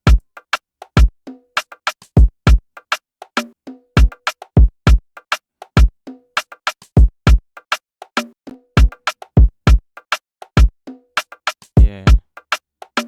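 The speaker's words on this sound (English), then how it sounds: "So my drums sound like this." An Afrobeat drum pattern programmed in FL Studio plays as a dense, steady, looping groove of deep kicks, crisp ticks and snappy hits, with a brief rolling fill near the end. It is loud and close, with no talk.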